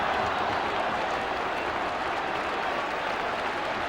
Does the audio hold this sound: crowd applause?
yes